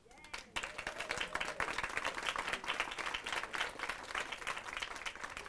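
Crowd applauding at a grand opening ribbon cutting ceremony for a gallery and gift shop, a dense burst of steady clapping from a sizeable group that holds evenly throughout, fairly soft overall.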